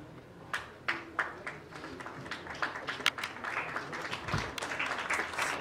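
Applause for an honoree on stage at a plastic-pollution campaign launch: steady clapping from an audience with sharp individual claps standing out, swelling slightly toward the end.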